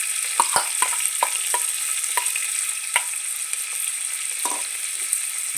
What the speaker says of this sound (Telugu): హీట్ అవుతుంది ఆయిల్ ఉల్లిపాయ పచ్చిమిర్చి వేస్తున్నాం